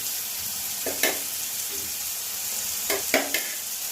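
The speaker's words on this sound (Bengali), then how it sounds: "এবার আমি একটু রসুন দিচ্ছি" Garlic goes into a pan of frying onions, a constant sizzle broken by two clusters of sharp spatula scrapes and knocks, close and steady, without speech.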